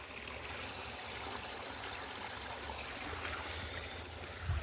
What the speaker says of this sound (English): Here's another waterfall.